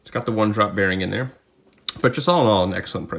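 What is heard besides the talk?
None of the usual background noises is heard.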